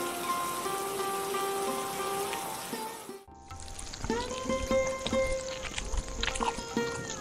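Cartoon rain in a Bengali animated tale, a steady hiss of drops on a surface with a short silent break, then continuing with light boat-like knocks and splashes, fairly loud throughout.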